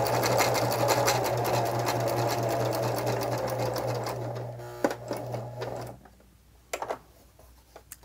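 A sewing machine stitches a Christmas card with a fast, steady mechanical whirr for several seconds. It slows and stops, and a few sharp clicks follow in the quiet afterward.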